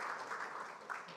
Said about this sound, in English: Please big applause to Pak Doni who's attending this meeting.